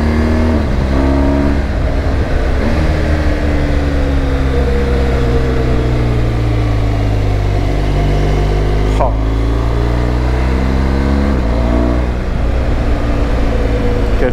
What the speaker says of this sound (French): Quel plaisir cette moto,